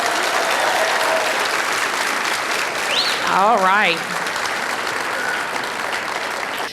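Applause for fifth graders at an elementary school graduation ceremony, a steady wash of clapping from the crowd while a voice speaks briefly over it.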